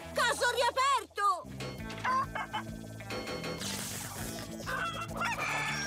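Cartoon chickens cluck and crow in a rapid, busy burst over lively animated background music, with characters' voices and dialogue mixed through the scene.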